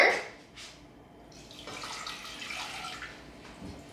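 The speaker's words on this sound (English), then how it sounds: "Add in our water" Water is poured into a pan over brown sugar and honey in a home kitchen, making a soft splashing trickle that swells and fades over a few seconds with no talking.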